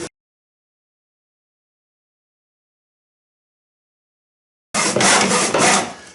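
A dry standard 2x4 being crosscut with an antique Millers Falls miter saw, heard as a short burst of loud, close rasping strokes near the end after a long silence.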